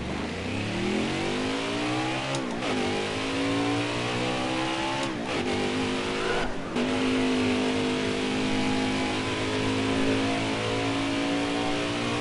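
Number 63 NASCAR truck in NASCAR Heat 4, qualifying at Chicagoland: a steady, loud engine roar that climbs in pitch, drops briefly at three gear shifts, then holds a high, sustained drone.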